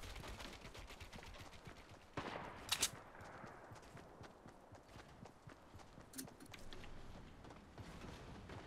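Faint, distant gunfire from a Fortnite Battle Royale match: a short crackling burst near the middle, then a single later crack, over low background game ambience.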